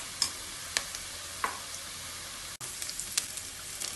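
Fennel seeds, onion and ginger garlic paste fry in a pan, with a soft steady sizzle broken by several sharp stirring scrapes and clinks, close and fairly quiet, with no talk.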